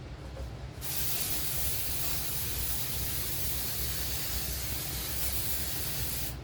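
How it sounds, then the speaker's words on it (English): Baker's Joy baking spray hisses from a can as pans are greased for zucchini bread, one loud, close, continuous spray that starts after a brief quiet moment and lasts several seconds. "we're going to spray them down with our Baker's Joy"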